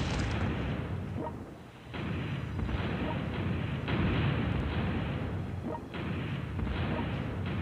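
Sustained rumbling bombardment from artillery in the strategy war game World Conqueror 4 (2018 mod, Brazil campaign), dense overlapping booms with brief lulls, loud and continuous with no talk.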